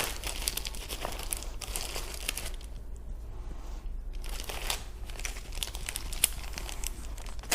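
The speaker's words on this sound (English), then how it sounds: "Grab a Ziploc." A Ziploc plastic bag being handled, giving close, continuous crinkling and rustling in bursts with a brief quieter pause midway.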